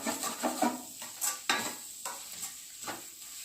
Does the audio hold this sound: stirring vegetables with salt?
yes